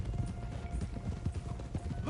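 Soft, rhythmic hoof clops of a horse walking in a video game, low and muffled, with a faint murmur of background sound.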